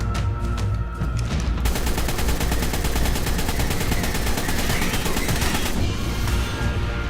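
In ARK Survival, a rapid, sustained burst of automatic gunfire is aimed at flying creatures, loud and close, hammering steadily for several seconds before cutting off.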